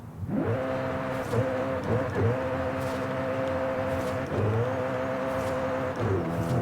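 A car in Forza Horizon 5 accelerating hard through repeated gear changes, the engine note climbing in loud sweeping pitch rises that drop and climb again with each shift, close and continuous.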